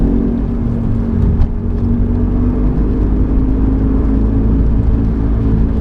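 A 1995 BMW E36 318i driving with worn rear wheel bearings gives a loud, continuous low rumble and whir from inside the car, with a steady drone running under the road noise.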